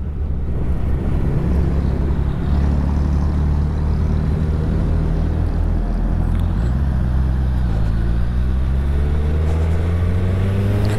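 A 2021 Suzuki Hayabusa motorcycle cruises along a highway, its engine droning steadily with a rising pitch as it accelerates, heavily buffeted by rushing wind across the whole stretch.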